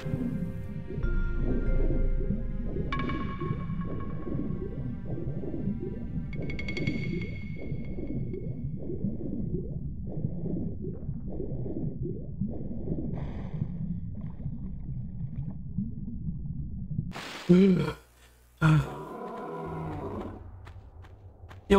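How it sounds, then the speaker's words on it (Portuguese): A bear in the video game Tomb Raider 1 Remastered gives a long, low, rumbling growl that rolls on steadily for many seconds, then breaks off into a few sharp clicks and thumps near the end. "Eu ouvi barulho de urso aqui."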